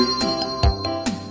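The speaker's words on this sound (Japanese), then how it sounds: "電話が九台プルルプルプルルプル" Telephones ringing in a Japanese children's counting song, a bright electronic ring repeating in quick bursts over the music.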